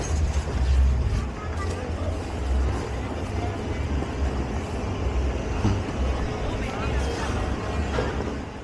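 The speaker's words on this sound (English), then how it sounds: "I couldn't hear super well over the coaster" A roller coaster runs at the Fun Spot amusement park, a steady low rumble lasting throughout with occasional louder surges, close by and continuous, with indistinct voices mixed faintly underneath.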